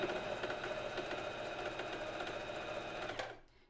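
A sewing machine runs steadily through a zigzag finishing stitch, a fast continuous mechanical whirr at close range for about three seconds before stopping abruptly.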